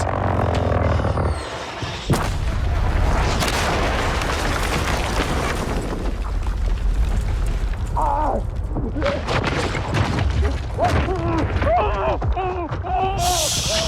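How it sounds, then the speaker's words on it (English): A rocket blast erupts in the World War II shooter Battlefield V during multiplayer gameplay, a loud booming burst amid continuous rumbling battle noise, with players shouting and talking over the chaos. "That's the rocket!"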